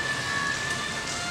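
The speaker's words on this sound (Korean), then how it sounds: "이렇게 비가 많이 와도 비가 오는 그대로" Heavy rain falling outdoors in Milan, a dense, even hiss of rain without pauses, fairly soft, with a thin steady tone running under it.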